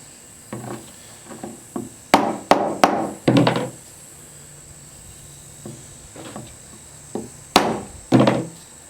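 Blows drive a 1751-style belt axe head onto its wooden handle resting on a bench: a few light taps, then a burst of four heavy knocks, and two more firm strikes near the end, close and without speech.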